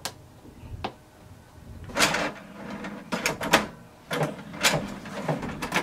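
HP Deskjet 2655 printer powering on after its power button is pressed, giving a few soft clicks and then several whirring mechanical bursts of carriage and motor movement, close and moderately loud.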